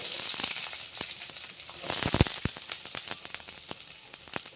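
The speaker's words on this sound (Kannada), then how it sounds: "ಈರುಳ್ಳಿ ಹಾಕ್ತಾ ಇದ್ದೀನಿ, ಸಣ್ಣದಾಗಿ ಕಟ್ ಮಾಡಿ ಇರುವಂತ 2 ಈರುಳ್ಳಿ" Two finely chopped onions hitting hot oil with cumin and mustard seeds in a pan for palak gravy: a loud burst of sizzling frying with spattering crackles, close and continuous, no voices.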